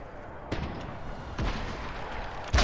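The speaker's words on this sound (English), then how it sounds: "Then I fire another rocket at him" Rocket blasts in a Fortnite match land as two sharp booming impacts a second apart, followed by rumbling debris, then a third hard hit right at the end, all fairly loud with no speech.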